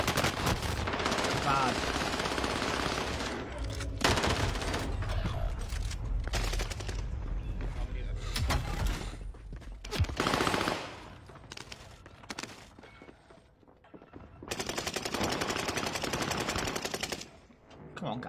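SMG and other automatic gunfire in a first-person shooter video game, long loud rattling bursts with brief gaps and one short pause, while players talk over it.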